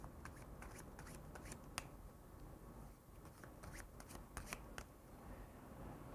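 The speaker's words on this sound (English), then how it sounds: "They can now shuffle it. They'll shuffle it again." A deck of playing cards is shuffled during a card magic trick, giving a steady riffling rustle with several crisp snapping bursts of cards, fairly close and continuous, with no talking.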